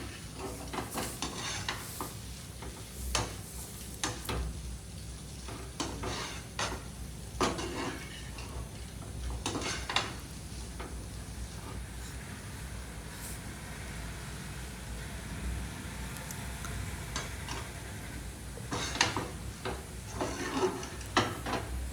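Panagantaku leaves stirred and frying in a pan, with steady sizzle and repeated scraping and clinking of a utensil against the pan throughout, no talking.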